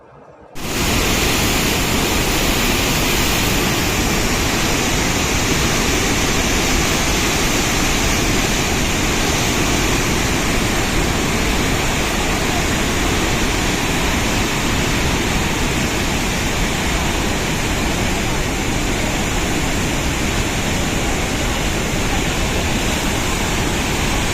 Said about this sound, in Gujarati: પથ્થરો પરથી પડતા પાણીના ધોધનો અવાજ દસ કિલોમીટરની ત્રિજ્યાના ગામોમાં સાંભળવા મળે છે